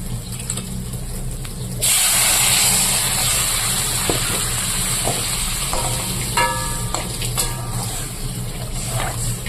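Water poured into a pan of frying potato curry sets off a loud burst of sizzling, with a sustained hiss that follows over faint stirring and clinks, close and busy.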